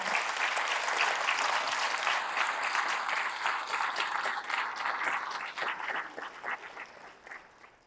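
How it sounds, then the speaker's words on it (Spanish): An audience applauds at a book presentation in a museum, dense sustained clapping that stays strong for several seconds before thinning and fading toward the end. "Un aplauso, por favor, allá arriba"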